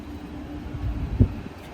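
Netravati Express pulled by a P7 locomotive starting off, a low rumbling engine and rail noise with a brief louder thump near the end, heard alone without talk.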